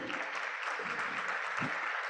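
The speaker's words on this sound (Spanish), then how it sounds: "Un aplauso, por favor, para ella y bienvenida." An audience at a business-school panel event on equity and sustainability claps in a brief, dense burst of applause, fairly quiet and without speech over it.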